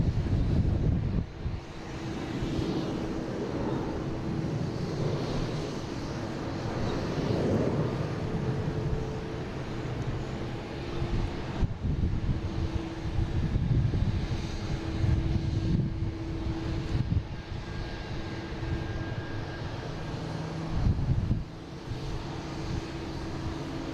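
An Embraer E-175 airliner on flight 5620 from Cincinnati rumbles at an airport, a sustained, fairly distant engine roar mixed with wind buffeting on the microphone.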